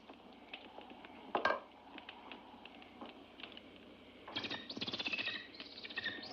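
Faint, scattered chirps and tweets from a small bird in a quiet room, short sharp calls with a brief louder flurry midway and a busier run of chirping near the end, no talk.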